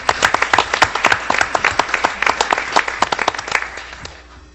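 A modest group claps at a Coolidge, Arizona city council meeting for city and parks staff, individual hand claps distinct and fairly close, steady for about four seconds before fading out.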